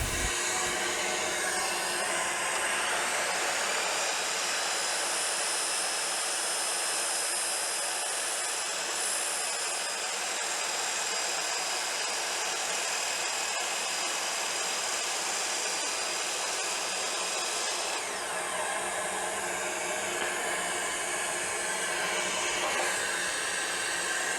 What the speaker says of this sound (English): The very last scenario I'll run is the 6-inch line and the vacuum going through the 1 1/4 inch line